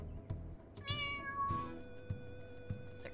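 A cat meows several times in a quiet indoor home, a few drawn-out, rising-and-falling cries with soft clicks and thumps between them and no talking.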